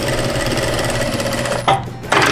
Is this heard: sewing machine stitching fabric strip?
yes